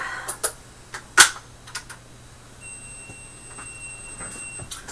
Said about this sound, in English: God awful beep again.